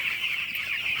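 Broiler chickens on a poultry farm in winter cluck in a steady, continuous chorus, close and fairly loud throughout the short moment with no talking.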